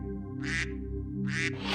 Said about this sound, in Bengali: রাজহাঁস এখন চিৎকার করছে